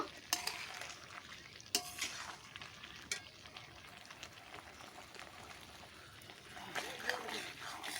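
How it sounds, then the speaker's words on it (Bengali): Brinjal and shrimp curry in a pan, stirred gently after the lid comes off, a soft scrape and spoon clinks over a low simmering sizzle, close by. "ঢাকনাটা খুললে আলতো হাতে একটু নাড়িয়ে নেব।"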